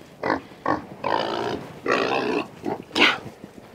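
Fat pigs grunting and squealing at close range in a series of uneven bursts, some short and some drawn out, ending with a higher-pitched squeal, with no talking.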